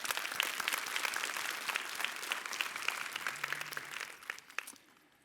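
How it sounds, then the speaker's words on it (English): A conference audience at the Get Tomorrow 2022 event applauds in a dense, steady wave of clapping that holds for about four seconds, then thins out and fades to a few scattered claps. "So big round of applause to you."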